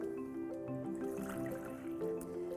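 Clean water is poured over rice in a sieve, a soft close trickle with drips and wet splashing, quiet and steady with no talk.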